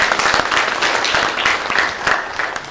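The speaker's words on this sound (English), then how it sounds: "Let's give our speakers another round of applause." A crowd applauds its speakers at a veterans' storytelling event, a loud, dense wash of clapping that stays steady throughout.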